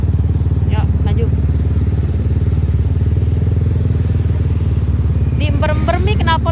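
A motorcycle exhaust rumbles loudly and steadily up close on a street in Kemayoran, Jakarta, a constant throbbing engine note with short bursts of voices heard over it near the start and end.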